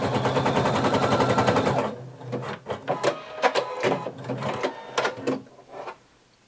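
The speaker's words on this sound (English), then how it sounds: "I'm going to just sew across the top just to secure it" Sewing machine stitching across the top edge of a handmade swimsuit in a quick, rapid burst lasting under two seconds, close by, followed by softer handling clicks and rustles.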